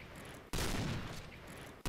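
Gunfire in the Point Blank shooter game on the Desert Camp map, two loud abrupt broadband shots about 1.3 seconds apart, each sharp attack followed by a decaying rumble, with no talking.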